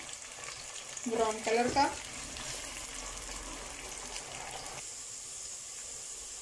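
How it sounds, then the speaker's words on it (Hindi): Onions fry in a pan for a mutton korma, with a soft, continuous sizzle and a brief burst of stirring, while a person speaks briefly over it. "प्याज को हमने फ्राई करना है"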